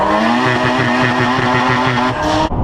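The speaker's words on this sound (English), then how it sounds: "it was rev limiter here, rev limiter there," A loud race car engine held at high revs, stuttering rhythmically against the rev limiter, then cutting off near the end.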